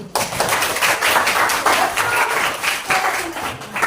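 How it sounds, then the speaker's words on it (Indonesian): Schoolchildren applaud in an Islamic religious studies class, a lively burst of many small hands clapping together, fairly close and loud throughout, without voices. "Kasih dia tepuk tangan."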